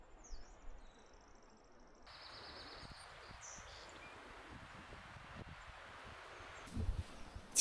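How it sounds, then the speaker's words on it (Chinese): Wind moves through tree leaves deep in a spring forest in the Xiaoxing'an Mountains, making a soft, steady rustling hiss that stays faint, with a brief louder gust near the end. "起风了， 这个树叶 沙沙的声音特别的好听。"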